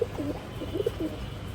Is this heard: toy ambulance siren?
no